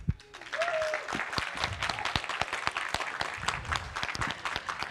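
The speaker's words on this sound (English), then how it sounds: "I want to get another round of applause for all the staff, the volunteers" An audience claps for event staff and volunteers at a 3v3 tournament, steady applause filling the room after a brief voice at the start, moderately loud and sustained.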